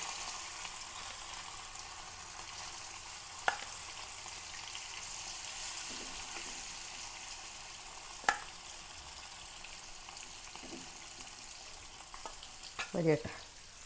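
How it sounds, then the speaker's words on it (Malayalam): Small snakehead fish pieces frying in a pan give a soft, continuous sizzle, with a few sharp clinks and scrapes of turning spaced through it and a clatter of handling at the end; no voices. "അപ്പോൾ അതൊന്ന് വറുക്കാം അപ്പോൾ ഈ പാനിലാണ് ഞാൻ വറുക്കുന്നത്"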